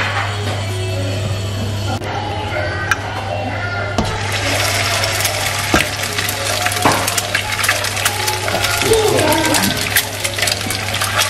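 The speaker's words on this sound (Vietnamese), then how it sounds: "Bây giờ mình đổ dầu vô để mình chiên sườn nha con" Oil sizzles and crackles steadily as pork ribs fry in a pan, growing busier over time, with a low hum underneath and occasional clinks.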